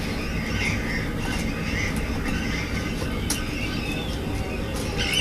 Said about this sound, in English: Puffins are small birds